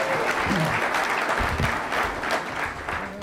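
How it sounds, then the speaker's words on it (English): Audience applause for a meeting's timekeeper, a crowd clapping steadily and fairly close, with a few voices and cheers mixed into the dense patter. "Also, a round of applause for our timekeeper."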